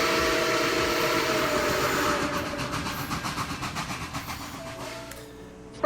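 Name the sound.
train sound effect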